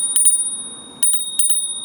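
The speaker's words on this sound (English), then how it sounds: "I almost forgot it's got a bell." Two quick double rings from the handlebar bell of a Zora Felix electric mini folding bike, loud and close, sounding about a second apart over low rolling and wind noise.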